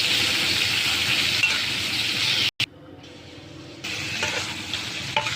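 Shrimp stir-frying in a pan with butter, a steady loud sizzle, a brief cut partway through, then continued frying with light clinks of a utensil.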